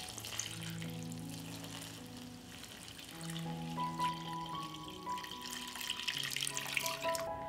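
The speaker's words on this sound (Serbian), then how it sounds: "I dodajem vodu da prekrije meso." Water poured into a pot holding meat, a soft running, splashing stream that grows a little louder and busier toward the end, with faint tonal hum underneath.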